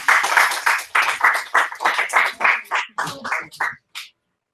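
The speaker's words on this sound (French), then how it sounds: "ils veulent vous applaudir à tout prix" A short burst of audience applause at a French school talk on studying French and international law, rising in uneven pulses and tapering into a few scattered final claps before silence.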